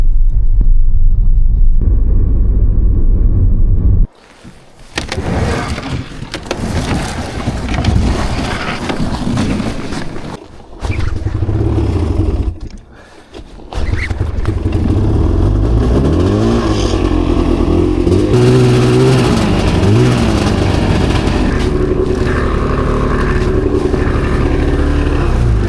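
A snowmobile engine runs loud and close, a steady rumbling drone with revving swells, a brief drop near the start and a short lull midway before it roars on continuously.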